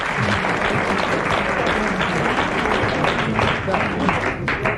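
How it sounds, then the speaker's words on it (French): A 1992 French television studio audience breaks into loud, sustained applause of many hands clapping together for several seconds. "ça mérite vraiment les applaudissements du public"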